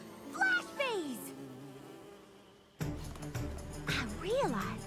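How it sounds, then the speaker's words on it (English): Flash bees from a My Little Pony cartoon buzz in short, high, whining bursts. Cartoon voices and music play alongside them, and the sound drops out briefly before the buzzing comes back. "Flash bees!"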